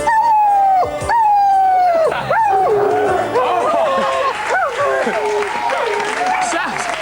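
A mutt howling along to a song, a long wavering series of rising and falling howls over music, loud and close, with voices and a background chorus.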